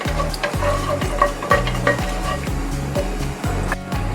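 Sliced onions sizzle loudly in hot oil with whole biryani spices, a steady close frying hiss broken by rhythmic scraping strokes of a spatula against the pan, roughly twice per second.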